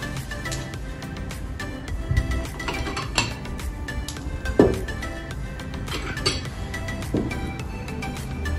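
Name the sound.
dessert plates being set out on a table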